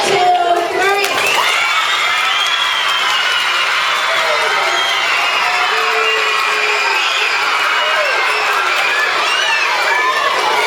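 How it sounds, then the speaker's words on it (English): Elementary school children in a gathered crowd cheer, shout and whoop, a dense, loud wall of young voices with some clapping mixed in that holds steady from start to finish. "I want you to give a round of applause for Brandon"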